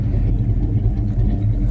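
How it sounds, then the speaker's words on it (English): Old 1984 Chevy C10 truck engine running at idle, a steady low rumbling drone held close and even throughout, with no voices over it. "I just thought I'd show you the old truck and let it run for just a few minutes"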